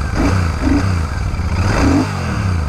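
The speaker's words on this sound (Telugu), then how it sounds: "సో స్టార్ట్ చేసినప్పుడు మాత్రం parallel twin engine sound super." Royal Enfield Super Meteor 650 with a 270-degree parallel-twin engine revs loudly close by, its throbbing exhaust rising and falling in a couple of throttle blips over a steady rumbling idle.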